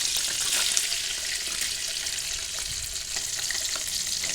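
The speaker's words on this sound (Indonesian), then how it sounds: "Minyak gorengnya udah panas, langsung aja masukkan tahu putih yang sudah dipotong tadi" Steady, dense sizzling of cut white tofu frying in hot oil, close and continuous throughout with no voices.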